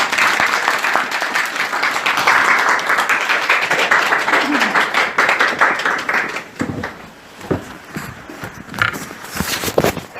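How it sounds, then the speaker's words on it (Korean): A church congregation claps loudly after a testimony during a Sunday worship service, dense applause that thins and fades toward the end, leaving scattered individual claps. "박수 소리가 큰 걸 보니까 간증을 잘하신 것 같습니다."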